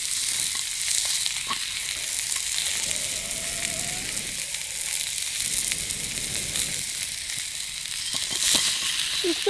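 Food frying in a pan at a camp, a steady close crackling sizzle running continuously with small pops, fairly loud and without talk.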